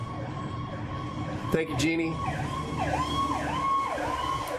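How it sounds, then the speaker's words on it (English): A fire truck siren wails as it heads out along Morgan Street, the rising and falling tone sweeping repeatedly at moderate distance, with a brief voice speaking over it partway through. "That's a fire truck headed out in Morgan Street to the east side of town."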